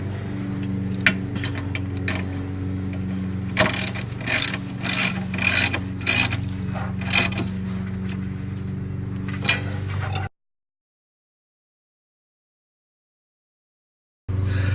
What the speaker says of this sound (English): Now all the fasteners need to be tightened down to about 25 to 30 pound-feet of torque